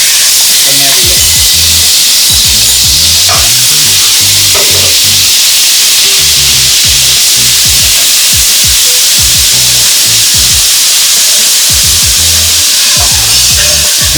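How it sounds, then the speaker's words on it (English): Minced garlic fries in hot oil for fried rice, a loud, steady sizzle and hiss with scattered stirring knocks and clatter close by, and speech now and then over it. "Once your oil is hot enough, put your minced garlic."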